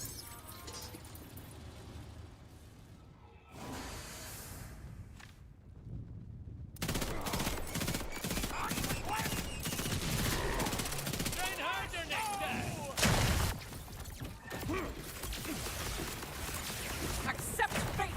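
Rapid gunfire from the Instigator weapon in the video game Borderlands 4, a dense run of sharp shots and crackling impacts that grows loud after a quiet opening, with talk over parts of it.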